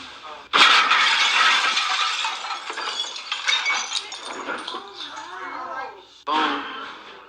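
At a Houston restaurant, a car smashes through the front window, a sudden loud crash followed by glass shattering and clinking, with voices talking over the aftermath and a second burst near the end.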